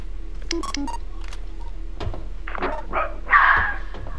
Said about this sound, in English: It's barking.